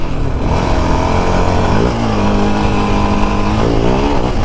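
A 2024 Yamaha Raptor 700R ATV in stock form revs steadily while being ridden, its engine note rising and falling in a continuous, loud drone with strong low harmonics and no voices.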